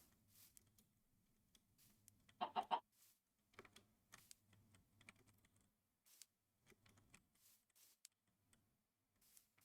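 Soft clucking of a chicken in Minecraft, a short burst of clucks in the middle, mixed with scattered keyboard clicks and quiet game sounds.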